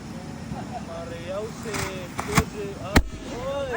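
A New Year firework fountain hisses and pops, with two sharp bangs standing out amid a steady crackling roar while excited voices talk over it.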